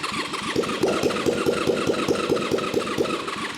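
A Honda Magna motorcycle engine runs loud and close on open headers, a rapid rough rhythmic popping and chugging idle with uneven firing throughout, no voices over it.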